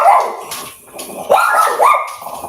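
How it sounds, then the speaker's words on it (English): A dog barks repeatedly up close and loud, with several sharp yips and whining barks in quick succession. "I apologize for the dog."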